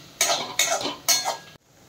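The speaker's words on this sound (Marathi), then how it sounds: "परत एकदा चांगलं हे परतून घ्यायचं, म्हणजे आलं लसूण याच्यामध्ये वास लागतो कांद्याला" Three scraping, clattering strokes of a utensil stirring onion with ginger and garlic as they sauté in a pan, each lasting about a third of a second, close and fairly loud, ending abruptly.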